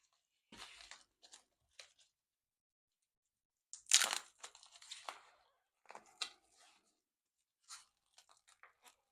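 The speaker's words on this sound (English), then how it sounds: "We're going to have to destroy it to open it." A padded mail envelope being torn open, with crunchy, crackling rips in several short bursts and one loud tearing stretch in the middle, close and alone.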